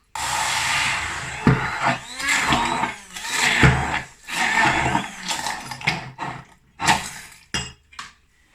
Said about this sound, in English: So I've got my Bamix stick blender, and I'm going to just blend this up